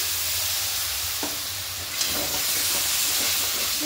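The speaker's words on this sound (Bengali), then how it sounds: "খুব ভালো করে মশলাটাকে কষিয়ে নেব" Spice paste for cabbage ghonto being sautéed in a pan with a splash of water: a steady, loud hiss and sizzle fills the whole stretch, with a few faint utensil scrapes and taps close by.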